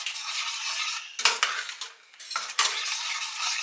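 Spoon stirring oatmeal with cinnamon and vanilla in a pot, close and fairly loud: a steady scraping swirl with two sharper clinks of utensil against the pan, no talking.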